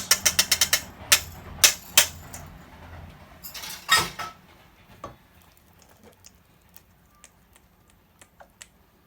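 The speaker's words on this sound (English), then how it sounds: "what we're going to do is add our wet ingredients to our dry ingredients" Wet and dry chocolate muffin ingredients are mixed in a bowl with a quick burst of close clicks and clinks of a utensil against the bowl, then sparse, softer taps trailing off.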